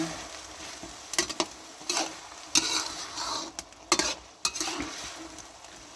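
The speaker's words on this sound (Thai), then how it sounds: "ผัดจนกว่าเห็ดจะสุกเลยเ" Oyster mushrooms are stir-fried in a pan for basil stir-fry, giving a steady sizzle broken by spatula scrapes and clinks at an irregular rhythm, close and moderately loud, with no talking.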